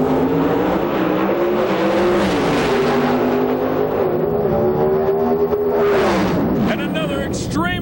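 Pro Stock drag racing cars at the 2005 IHRA Rocky Mountain Nationals roar down the strip, a loud, continuous engine howl whose pitch climbs and shifts through gear changes, with a second rising surge near the end.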